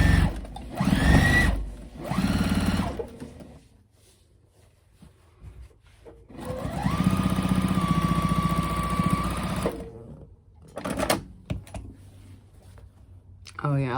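Sewing machine running in bursts while stitching a no-binding table runner, with a longer steady run of motor whir in the middle and shorter stretches at the start and end, close and fairly loud.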